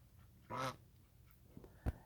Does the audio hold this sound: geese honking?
yes